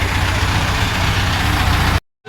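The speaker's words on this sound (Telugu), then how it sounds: "ట్రాక్టర్ అయితే అక్కడ ఉంది" A tractor engine idles with a steady, loud low rumble during a Ganesh idol transport procession in Korutla, running without a break for about two seconds before cutting out abruptly.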